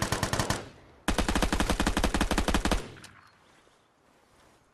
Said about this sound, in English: Who are they shooting?